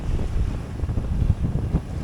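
A sailboat surfs downwind down waves at sea, with a heavy rush of wind buffeting close by and low rolling water and hull noise surging and easing beneath it, no voices.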